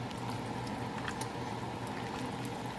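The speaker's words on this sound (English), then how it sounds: "I'm going to let these things take off simmering until they're done" A pot of food simmering on a stovetop in a home kitchen, a steady low bubbling and hiss that stays constant throughout with no voices.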